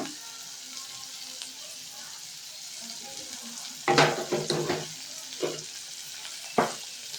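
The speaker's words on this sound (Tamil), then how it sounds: "வதக்கிக்கிட்டு புளியை சேர்த்துக்கோங்க" Sautéing in a pan while tamarind goes in for drumstick leaf chutney, a quiet low sizzle under a burst of spoon clatters and scraping against the pan, followed by a few more knocks.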